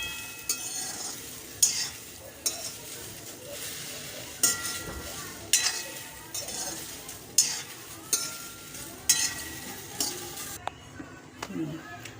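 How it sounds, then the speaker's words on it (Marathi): Okra being stirred and dry-roasted in a pan for a spiced Maharashtrian bhaji, with a regular scrape of the spoon about every second over a faint, steady sizzle; no talking. "आता मी ही भेंडी भाजून घेतलेली आहे"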